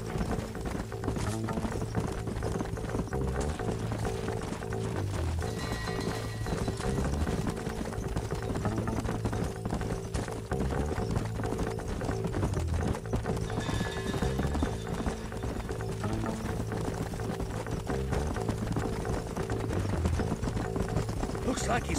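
Horses gallop in Red Dead Redemption on PS3, a steady, continuous clip-clop of hooves running throughout, mixed with game music and spoken character dialogue layered over the hoofbeats.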